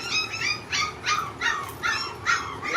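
Two-week-old Chocolate Labrador puppies whimper and squeal in a run of about six high, thin cries repeating every half second or so, close to the microphone with no talk.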